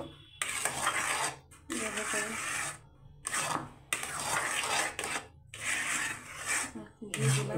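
Halwa stirred in a pan with a utensil, rhythmic scraping strokes in repeated bursts separated by short pauses, close and clear, with a voice briefly speaking near the end.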